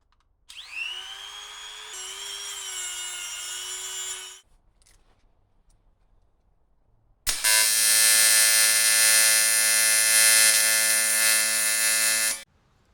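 Welding tacks on custom intercooler piping for a Barra turbo build in a tight engine bay: two steady electric buzzing bursts, each about four to five seconds long, separated by a quiet pause.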